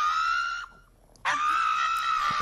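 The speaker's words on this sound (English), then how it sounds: "It sounds like a human's yell." A human yells in two long, shrill, sustained cries split by a brief gap. Both cries are loud and close, with nothing else behind them.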